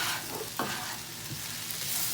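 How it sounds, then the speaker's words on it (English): Egg and rice being stirred and fried together on a hot griddle for beef fried rice, with a steady close sizzle and one sharp spatula scrape partway through. "Mix all this rice up"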